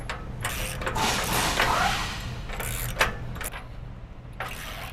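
Bolts and nuts on rock sliders being tightened against a Toyota Tacoma frame, with repeated ratchety bursts and metallic clicks close by over a steady low hum, each turn coming in short spurts.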